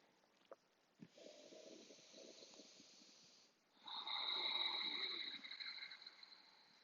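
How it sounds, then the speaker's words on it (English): Ujjayi breathing in a yoga sculpt session: a slow, raspy inhale followed by a louder, fuller exhale, both made as a soft hiss at the back of the throat, close and clear with no talking. "creating a little bit of rasping at the back of the throat,"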